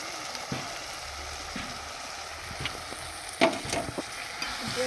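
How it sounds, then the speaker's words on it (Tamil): Carrots and beans sautéing in a pan with tomato for pasta, a soft steady sizzle with occasional stirring scrapes and clinks, fairly quiet and without talk. "இப்போ இதையும் நல்லா வந்து சேர்த்து வதக்கி விட்டுக்கலாம்."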